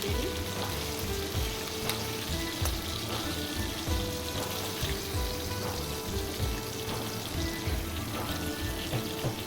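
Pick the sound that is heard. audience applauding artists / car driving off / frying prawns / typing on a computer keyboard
frying prawns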